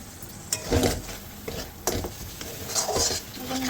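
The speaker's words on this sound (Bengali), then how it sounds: "ক্যাপসিকামটা ভেজে নিয়েছি এখানে চাপা দিয়ে রেখেছিলাম এটা একটু আমি তুলে নাড়াবো" Fried capsicum in oil is stirred in a pan for a capsicum paneer dish, with a few scraping and knocking strokes of a spatula over a light sizzle and some clatter.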